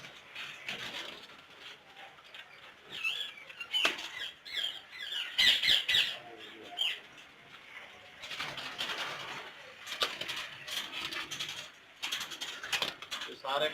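Many green ring-necked parrots in a large breeding aviary in Pakistan squawk and chatter continuously at close range, with sharp bursts of calls rising and falling throughout.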